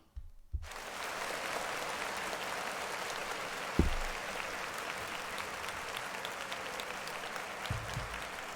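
Sustained applause for Nick Cannon from a live audience, steady dense clapping that continues throughout with a few louder thumps, no talking.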